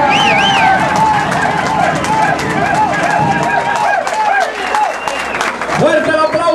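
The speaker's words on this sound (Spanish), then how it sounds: "Fuerte el aplauso para el doctor Israel Polanco por ese discurso de apoyo al ingeniero Temístocles Montas" Sustained loud crowd applause and cheering at a Dominican political rally following a speech of support, with a steady wash of clapping mixed with babble and a voice talking over it throughout.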